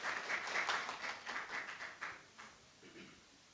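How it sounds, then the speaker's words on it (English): Audience applause fills a lecture hall at an academic nanomaterials session, a dense wash of clapping that is steady at first, then thins and fades out over a few seconds. "A huge round of applause for this."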